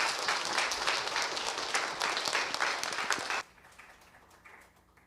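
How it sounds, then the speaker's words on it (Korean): A church congregation at a spring revival service breaks into loud, dense applause welcoming a pastor to the front, sustained clapping that cuts off abruptly into a quiet room. "여러분 우리 손상원 목사님 나오실 때 주님의 이름으로 큰 박수로 환영하겠습니다."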